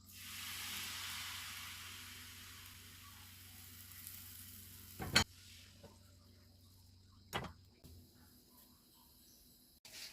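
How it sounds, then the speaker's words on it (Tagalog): Pancake batter of flour, egg, milk and sugar hisses and sizzles steadily in a hot pan, loudest at first and slowly fading, with a couple of sharp clacks along the way and no talking. "Luto tayo ng pancake."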